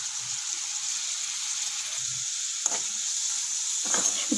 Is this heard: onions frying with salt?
yes